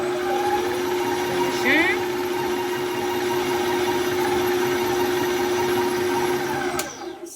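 A stand mixer kneading heavy dough hums at a steady pitch with a motor whine, rising briefly as it speeds up, then cutting out near the end; a voice speaks briefly.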